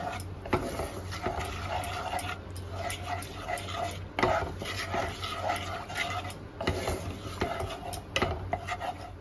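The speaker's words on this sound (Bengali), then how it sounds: "এবার ভালো করে মিক্স করে নেব।" A spoon stirs a vegetarian curry with whisked sour yogurt in a pot, scraping steadily and rhythmically against the metal over a low, constant sizzle, with occasional clinks close by.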